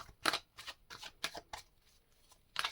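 Tarot cards shuffled by hand, a quick series of soft papery snaps and flicks close up, about eight distinct strokes in under three seconds, quiet and without talking.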